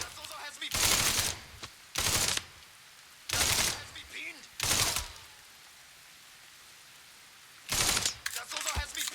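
Gunfire from a soldier in the video game Mafia III: several loud, dense bursts of rapid shots, each lasting a fraction of a second, separated by short gaps.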